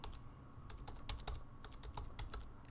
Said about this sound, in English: It asks us to give that a file name. And so I'm going to type in